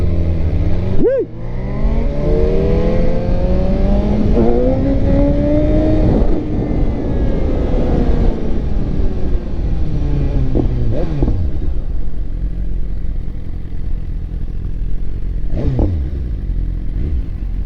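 A BMW S1000RR sportbike engine screams through rising revs under hard acceleration during a street wheelie, loud and close. Pitch climbs and drops between gear changes over steady road and wind noise.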